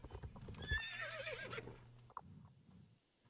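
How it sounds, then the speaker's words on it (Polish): A horse in the Star Stable video game gives a high, wavering whinny that falls in pitch. It runs for about a second over soft background hoofbeats, then ends with a sharp click. "Też tak w tle cały czas słychać, jak ten koń tam rży"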